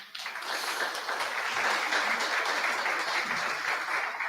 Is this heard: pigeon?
no